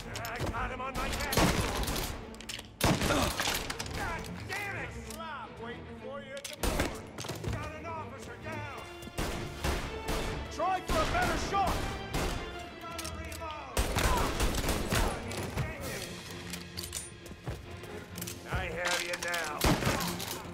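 Gunfire rattles through a shootout in Mafia: Definitive Edition, with dense bursts of rapid shots and heavy impacts across the scene, while voices shout and talk over the din.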